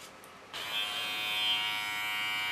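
Electric hair clippers switch on and buzz steadily and close for a couple of seconds, a bright continuous hum during a short haircut, with no talking.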